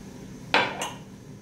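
A utensil knocking against a bowl while mixing semolina and oil into a dough, two quick, close clinks under a second apart.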